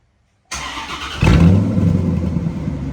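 A C4 Corvette engine with its muffler cut off starts up, idles briefly, then revs loudly and deeply, the raw exhaust staying heavy and up close throughout.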